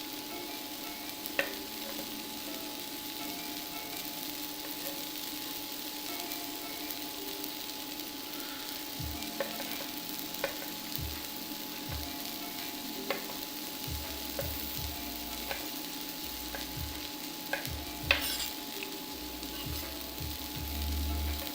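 Onions frying and being stirred in a pan while cooking bulgogi, a steady low sizzle with scattered scraping clicks of the utensil, close and moderately loud, no talking.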